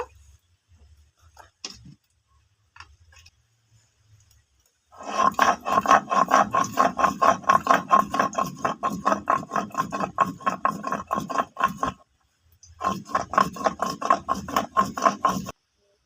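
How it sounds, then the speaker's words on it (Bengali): Cumin seeds are ground by hand on a stone grinding slab: after a few quiet taps, a close, rhythmic scraping and rasping of stone on stone runs for several seconds, pauses briefly, then resumes. "জিরেটা বেটে নেব"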